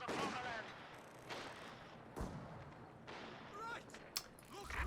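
Rapid gunfire from infantry squads in a Company of Heroes 2 match, bursts of shots and sharp cracks layered over a dense battle din, with a caster talking throughout.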